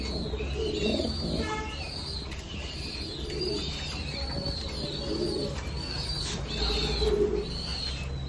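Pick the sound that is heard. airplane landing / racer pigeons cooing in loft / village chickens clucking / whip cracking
racer pigeons cooing in loft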